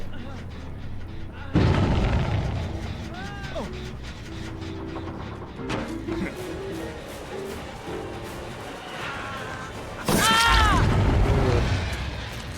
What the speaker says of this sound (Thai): อย่างระเบิดบุมบัมบุมบัม